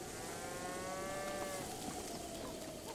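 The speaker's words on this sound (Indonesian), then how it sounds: "Ada sapi." A cow moos in the video game Zelda Breath of the Wild, a long, drawn-out low call over a steady backdrop of falling rain, with no voices.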